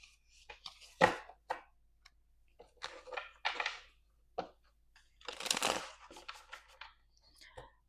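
Tarot cards being shuffled for an Aquarius reading, heard as quiet, scattered riffling and rustling bursts, one longer crisp flurry among them, with soft speech in between.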